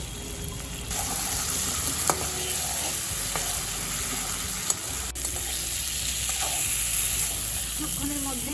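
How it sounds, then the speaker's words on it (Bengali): Steady loud sizzling of spice paste frying with potatoes in hot oil, with occasional scrapes of stirring and a faint voice in the background. "এই মশলাটা আলুর সাথে তেলের মধ্যে খুব ভালো করে ভেজে নেব"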